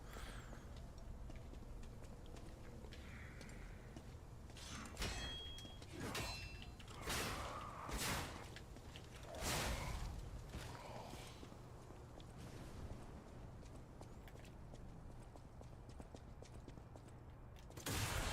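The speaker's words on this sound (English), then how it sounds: "You didn't hear the very eager puppet footsteps behind you, sir?" Puppet footsteps in the video game Lies of P clop and creak behind the player, faint, irregular thuds over a constant low game ambience, with no talk.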